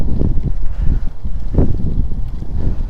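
Low, blustery rumble of wind buffeting the microphone while cycling, steady throughout with a few stronger gusts.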